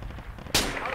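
A single sharp gunshot in a combat video game cracks out loud and close halfway through, its echo trailing off over a low rumbling background.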